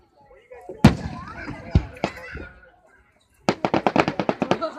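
Fireworks burst in the night sky at Keansburg, a few scattered booming bangs followed by a rapid string of about a dozen sharp crackling pops, with voices talking faintly between them.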